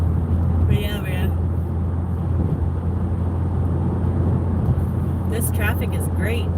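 Steady low road rumble from inside a car driving to Ikea near Seattle in evening traffic, with passing vehicles swelling briefly near the start and end; people talk throughout.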